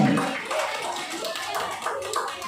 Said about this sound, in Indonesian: kita berikan tepuk tangan untuk Kepala Sekolah SDN 46 Pak Sumadi.